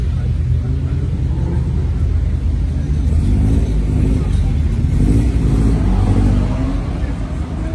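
An Alfa Romeo GT 1600 Junior rumbles with a low, steady engine note, revving a little midway, at an outdoor car gathering in a town square, with voices murmuring over it.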